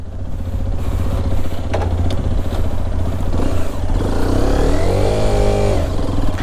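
Hero Xpulse 210 motorcycle exhaust during a ride, a steady loud engine drone that climbs in pitch as the rider accelerates near the end, heard close and continuous without talk.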